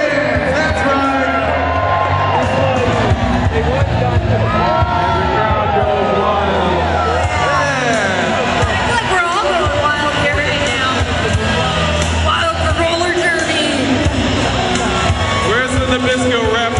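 Roller derby crowd in the DC Armory arena cheers and whoops in a loud, sustained roar for the DC Rollergirls' Scare Force One versus the DC DemonCats, with an announcer talking over it.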